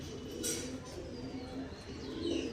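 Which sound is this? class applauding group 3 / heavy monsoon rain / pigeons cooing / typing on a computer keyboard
pigeons cooing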